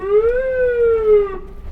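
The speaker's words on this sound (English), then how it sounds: "he hits the siren for a second" A single short ambulance siren wail rises and then holds its pitch before cutting off, loud and close.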